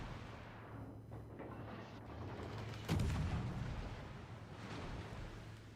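Muffled gunfire in a video game thumps at a distance, swelling into a heavier boom partway through, with low rumbling continuing around it and no talking.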